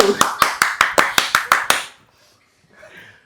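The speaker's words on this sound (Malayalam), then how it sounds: "കൈയടിക്ക ബിജു" A short burst of hand clapping at a house visit, about eight sharp evenly spaced claps over nearly two seconds, then a faint murmur of voices.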